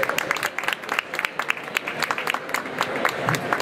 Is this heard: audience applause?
yes